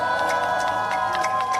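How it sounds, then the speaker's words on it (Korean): A campaign rally crowd in Yangyang, Gangwon Province cheers and claps in a short continuous burst, steady and loud, with a sustained tonal hum underneath. "다시 한번 뜨거운 환호성과 박수를 부탁드리겠습니다"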